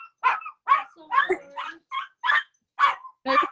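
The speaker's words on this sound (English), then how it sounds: "It's a dog." A dog barks in a quick series of about eight sharp, yappy barks with short gaps between them. The barks are moderately loud and nearby, with a whimpering quality.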